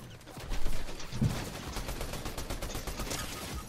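Gunfire rattles in a Fortnite match as a quick sequence of shots rises early and continues as a steady crackle. It sounds mid-distance and fairly quiet.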